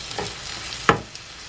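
Potatoes frying in bacon grease in a skillet give a low, steady sizzle, with a short louder clatter near the middle and no talking.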